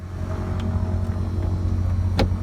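Light aircraft propeller engine starting up, a low steady rumble with a brief rising burst near the end, heard alone at close range.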